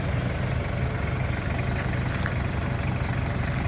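A 1997 Toyota Hilux Surf LN130 with a 3.0-litre 1KZ diesel turbo engine idles steadily, a close, even low clatter and hum with no talk over it.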